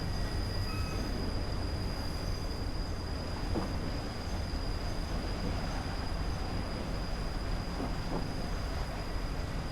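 Class 483 electric train rolling through a snowy Isle of Wight route in Train Simulator 2018, a steady dense rumble of wheels on rails with faint occasional clicks, continuous and fairly close, no voices.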